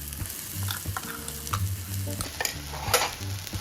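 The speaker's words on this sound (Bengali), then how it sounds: "এরপর তার মধ্যে কড়াইশুঁটি পেস্টটা দিয়ে দেবো" Green pea paste with cumin and turmeric is stirred and fried in a pan, a continuous soft sizzle broken by scraping spatula strokes and a few sharp clicks, close and moderate in level.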